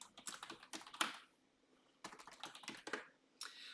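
Quick bursts of typing on a computer keyboard while naming a sheet in Microsoft Excel, with two close clusters of light clicking separated by a short pause, fairly quiet and with no voices.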